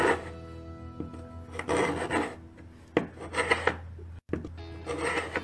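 A paint scraper strips paint from a flat surface in repeated close, rasping scrapes of uneven length, with a brief silent gap near the end.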